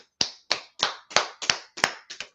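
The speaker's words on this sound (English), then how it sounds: "Let's clap it up for class" Class claps together in eight crisp, evenly spaced hand claps, each sharp and close, with no talk over them.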